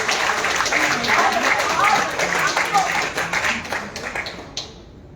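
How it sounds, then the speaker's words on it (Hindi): Applause from the audience at the Shabdakshar Ayodhya literary festival welcoming someone speaker to the stage, dense clapping that thins and fades out near the end. "तालियों से स्वागत करिए"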